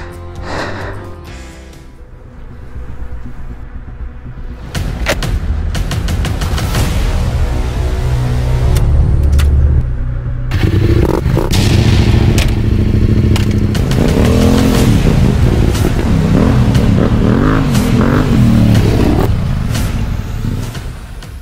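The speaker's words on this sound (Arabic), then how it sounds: "نشعل هاد الموطور على قبل الرملة" A motorcycle engine starts up close by in the desert near Merzouga, Morocco, and revs repeatedly, rising and falling in loud bursts before settling into a rough idle.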